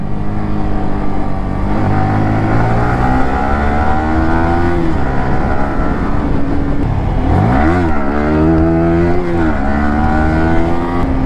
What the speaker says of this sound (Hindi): एक तगड़ा वाला विली के साथ आज का ब्लॉग को स्टार्ट करते हैं गाइस